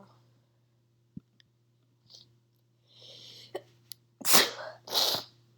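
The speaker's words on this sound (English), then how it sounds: "Oh god, I'm sneezing a lot" Two sharp sneezes in quick succession near the end, loud and close, preceded by a few faint clicks and a soft breathy intake, with a low steady hum underneath.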